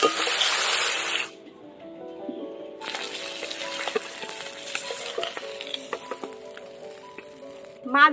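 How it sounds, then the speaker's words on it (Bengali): Pomfret fish frying in hot oil, a loud hiss at first that drops away, then returns as a softer steady sizzle with scattered spatters and a brief clatter at the end. "মাছ ভাজা হয়ে গেছে, তুলে নেবো এবার।"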